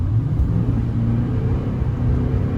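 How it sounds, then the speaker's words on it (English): A vehicle on Nitto Exo Grappler AWT tires is floored at full throttle on a snowy road, one side on snow and one on pavement, giving a steady loud low engine rumble and whir close by, with no talking. "I'm gonna floor it so you can hear it working."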